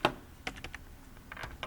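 Keys tapped on a computer keyboard while entering door dimensions in BIM software, a quick burst of separate clicks with short pauses between them, close and fairly quiet with no talking.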